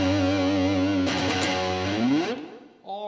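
An electric guitar through a MOJOMOJO Paul Gilbert Edition overdrive pedal plays a sustained distorted note, then a quick flurry of picked notes and a bending slide before fading, with a short new phrase at the end.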